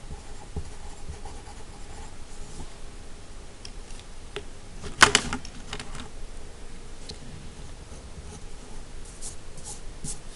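Pen writing numbers by hand on paper, soft continuous scratching close up under a low background hiss, with one brief louder tap midway.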